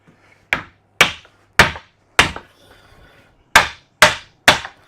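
A heavy hammer strikes a block of wood in a garden gate joinery workshop, seven sharp, loud knocks at a steady pace of roughly one per half-second to second, with a short pause midway.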